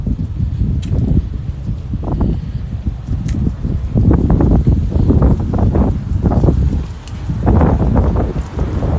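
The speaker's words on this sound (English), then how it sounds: "on this windy, ominous morning in Savannah" Strong wind on a windy, ominous morning walk in Savannah, a loud continuous rush that buffets the microphone in surging gusts, with faint rustling underneath and no talking.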